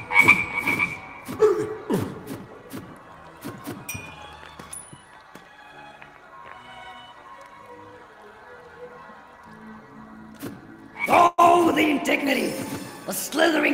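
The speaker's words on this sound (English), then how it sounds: "use the spell and you'll let out a swarm of frogs to play" A swarm of frogs croaking in the Waltz of the Wizard VR game, a dense chorus of croaks with clinking, glassy pings, loud at the start, thinning to a quiet stretch, then swelling again near the end.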